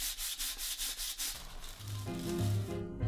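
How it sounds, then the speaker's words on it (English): An antique captain's chair being sanded down, a steady rhythmic scrubbing that rises and falls in regular strokes close up, then turns into a denser continuous rasp with a low hum underneath toward the end. "sand the entire thing down, which is gonna take a while"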